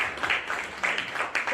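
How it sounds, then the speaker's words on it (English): Audience applause for Representative Munira at a community gathering: a steady wash of many hands clapping at moderate volume, swelling in small surges across the brief stretch. "Let's give another round of applause for Representative Munira."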